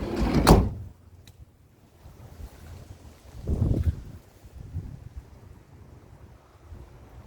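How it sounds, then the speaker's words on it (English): A sliding side door on a 1997 JDM Subaru Sambar kei van slams shut loudly near the start. A second, softer clunk follows a few seconds later, with quiet outdoor wind noise in between. "It's got 2 sliding doors, so you can go through here."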